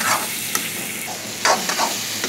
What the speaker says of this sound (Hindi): ये देखिए गाइस, चिकन पक रहा है